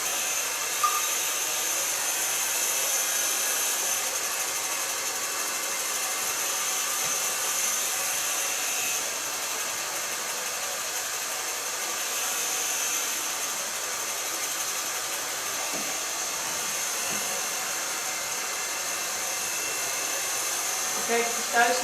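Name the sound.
blow dryer blowing on hair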